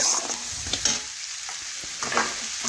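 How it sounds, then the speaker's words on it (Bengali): Potatoes and carrots stir-fried with ginger, cumin and pepper, with continuous sizzling and a few quick scraping turns of a spatula, close and steady, with no voices. "এই দেখুন এইভাবে একটু নাড়াচাড়া করে কষিয়ে নিচ্ছি।"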